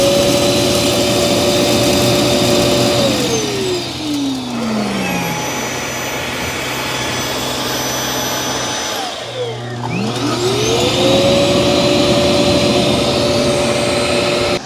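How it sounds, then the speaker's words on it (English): A eufy robot vacuum base station emptying dust from the robot, a steady loud whooshing suction roar with a motor whine that sweeps down, cuts out briefly, then sweeps back up. "Then it's going to turn another vacuum on in here and empty everything out."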